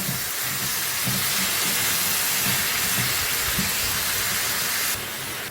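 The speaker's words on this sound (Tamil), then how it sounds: "இந்த தக்காளி வெங்காயம் போடுறதே அந்த பாவக்காய் வதங்குது" Bitter gourd sautéing with tomato and onion in a pan gives a loud, steady hiss of frying that holds for about five seconds and then drops slightly near the end.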